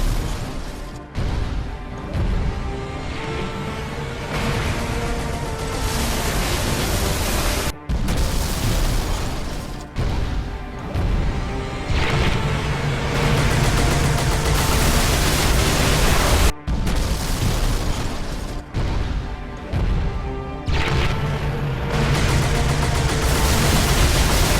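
The Scarab, a giant walker in the video game Halo 2, charges with a loud, dense, rumbling roar of noise that swells and sustains in long sections, broken by a few abrupt silent cuts.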